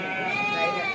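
A sheep lets out a single wavering bleat at the weekly sheep and goat market in Kadiri, short and fairly close, with market voices mixed in.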